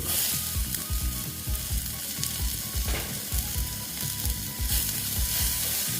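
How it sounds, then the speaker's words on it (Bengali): Chopped tomatoes sizzle loudly in a pan with ridge gourd, a steady close frying hiss with occasional stirring scrapes throughout. "এবার আমি দিয়ে দিচ্ছি টমেটো কুচি"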